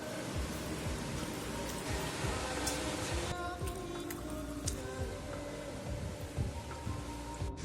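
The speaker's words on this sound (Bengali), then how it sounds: "আর বৃষ্টিটা একটু কমই আছে এখন" Light rain falls steadily outside a home, a continuous soft hiss with faint scattered drops that stays even throughout.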